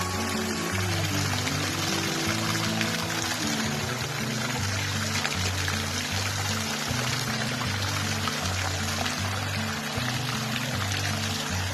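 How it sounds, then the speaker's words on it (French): Water spouts and splashes steadily in a fountain at the Alhambra in Granada, a continuous bright gush heard over a rhythmic low humming background. "dans la fontaine même, dans laquelle il y a un trou où l'eau jaillit"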